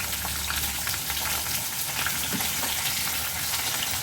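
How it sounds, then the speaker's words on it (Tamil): Fifteen whole small onions and curry leaves sauté in oil in a pan, giving a steady close sizzle and crackle with faint stirring clicks. "வெங்காயம் நல்லா பொன்னிறமாக வதங்கட்டும்"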